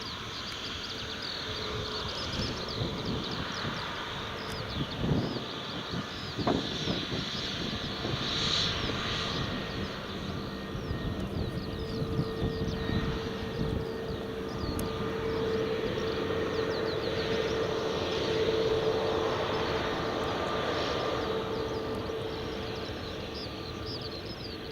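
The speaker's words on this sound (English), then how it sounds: "So here we are, Chinese-built Airbus A320 Neo operating for EasyJet." Airbus A320neo jet airliner in easyJet service, its engines a steady distant roar at an airport, rising and falling gently over about twenty-five seconds with a faint tonal whine through the middle.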